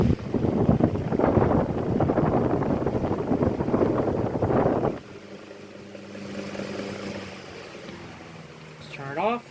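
An antique Emerson 12-inch desk fan awaiting restoration blows air: loud, close rushing wind for about five seconds, then a quieter steady motor hum with tonal whine.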